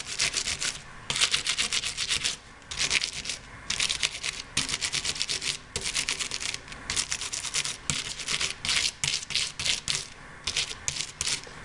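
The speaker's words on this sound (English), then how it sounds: "So I'm going to take the brush, and because the die is metal, it will take the beading and the paper won't." A brush rubs over a metal die and paper while beading a wedding card, making a steady run of close, dry scrubbing bursts with short pauses between strokes and no talk.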